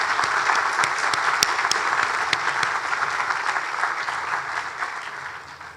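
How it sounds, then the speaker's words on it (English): Newly graduated doctors and guests applaud one another at a graduate school commencement, a loud, full round of many hands clapping with a few sharp individual claps standing out, tapering slightly toward the end. "let us give each other a round of well-deserved applause."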